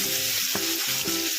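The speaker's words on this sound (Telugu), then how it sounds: "పచ్చిమిర్చి, ఉల్లిపాయలు, కరివేపాకు కొద్దిగా దోరగా వేగనిద్దాము." Green chillies, onions and curry leaves fry in a pan for a tomato pickle, giving a steady close sizzle with a few stirring scrapes and no talking.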